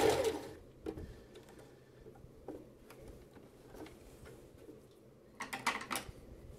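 A sewing machine backstitches near a notch on a pajama seam, with short bursts of quiet mechanical clatter and ticking, the busiest burst coming near the end, heard close with no talk.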